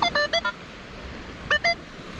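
A metal detector pinpointer on a beach gives short electronic beeps: a quick run of four, a pause, then two more, loud and close over a quiet background.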